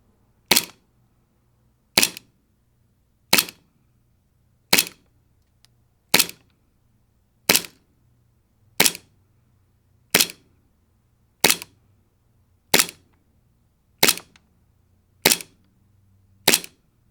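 A TTI Pit Viper gas airsoft pistol by Jag Precision fires single shots at an even, unhurried pace, about thirteen sharp, loud cracks, each followed by a short mechanical clack as the slide cycles and then near silence.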